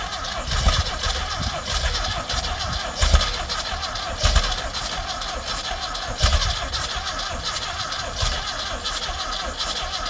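A stuck Volkswagen Baja Bug hot rod engine cranks and sputters while struggling for fuel with a weak pump, loud repeated bursts of turning over against a steady rumble, with faint voices nearby.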